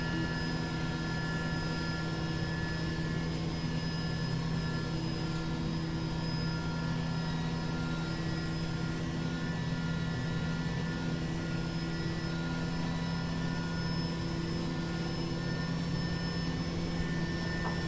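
A helicopter flying in the X-Plane 11 flight simulator gives a steady, loud engine and rotor drone with constant tonal whine throughout, unbroken and without talk.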